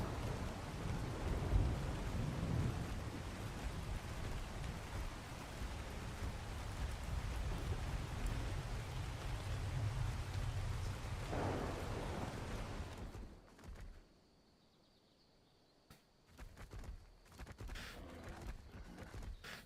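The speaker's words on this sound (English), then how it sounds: "The storm just stops and it's suddenly quiet again." A thunderstorm with heavy rain in the video game ARK Survival Ascended roars steadily with low rumbling thunder, then abruptly drops into near silence, followed by faint scattered sounds.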